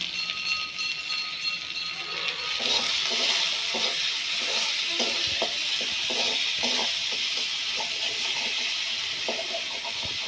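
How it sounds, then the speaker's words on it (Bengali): Cumin and turmeric powder frying in a pan, a quiet steady sizzle broken by repeated scraping stirs with a spatula from a few seconds in. "মশলাটা ভাজা হয়ে গেছে"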